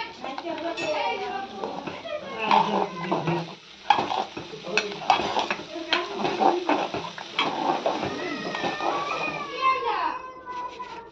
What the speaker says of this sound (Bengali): এরপর ভালো করে নাড়াচাড়া করে নেব।